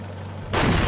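A tank's main cannon fires once in the Steel Beasts combat simulator, a sudden loud blast breaking in after a quiet low hum and rolling on with a heavy sustained roar.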